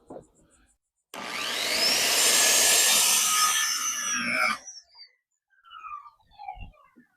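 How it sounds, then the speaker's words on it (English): A hand saw cuts through the end of a wooden board during a solar shed build, one continuous loud rasping stroke run lasting about three seconds, close up, followed by a few scattered knocks and scrapes. "all I'm going to do is cut off this dogtail on the end so that the wood can just line up with another piece of wood"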